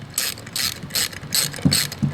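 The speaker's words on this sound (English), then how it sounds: "that has to be tightened using a 1/2-inch socket" A ratchet fitted with a 1/2-inch socket clicks in quick, loud bursts close by as it tightens the shifter bolt on a 2011 Mustang MT-82 MGW shifter, with four or five short ratcheting strokes and no talking.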